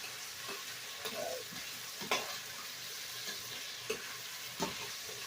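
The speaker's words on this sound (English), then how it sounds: "doing the potatoes and onions like this instead of just outright boiling it is to infuse those potatoes with that onion" Potatoes and onions fry in a pan, giving a steady close sizzle broken by a few sharper scraping stirs, with no voices.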